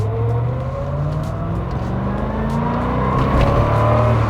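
1991 Chevrolet Corvette ZR1 accelerating hard from inside the cabin: a loud continuous engine drone with rising pitch as revs climb and gears change, steady wind and road roar underneath, no talk.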